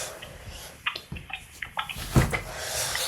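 Water splashing as a video game character goes swimming fully clothed, with scattered sloshes and splashes building to a louder burst near the end, over a soft steady background.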